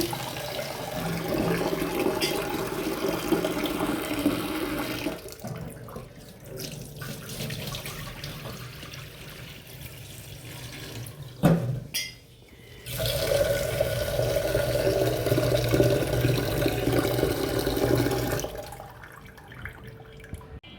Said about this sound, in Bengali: চাল ধুয়ে ভালো করে।